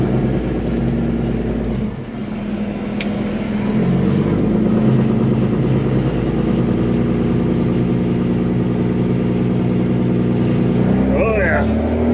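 An old dump truck works hard on extremely soft, spongy ground at a pool foundation site, its engine loud and steady as the wheels spin, with a voice talking over it throughout.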